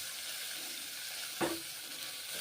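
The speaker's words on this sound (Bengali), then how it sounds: "নেড়ে চেড়ে ভেজে নিলাম" Round-cut bitter gourd slices sizzle in hot oil in a pan, a steady, fairly close hiss broken midway by one brief scrape as the slices are stirred.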